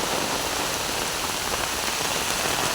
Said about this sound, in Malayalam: നല്ല പൊരി മഴയാട്ടാ